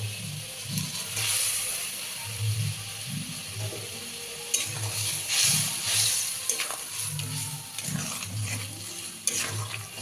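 Chanda fish going into a bubbling spiced curry gravy in a pan, a low sizzle and simmer with clattering handling sounds and a couple of sharp clinks, no talking.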